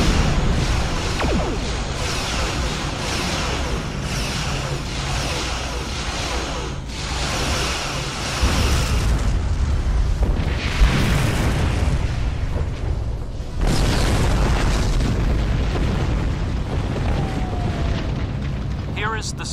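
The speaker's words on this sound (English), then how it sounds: "Again, opening fire. Salvo of photon torpedoes now." A salvo of photon torpedoes fired in a Star Trek space battle against the Borg, with repeated loud booming blasts and whooshes rolling over one another for about twenty seconds under intermittent speech.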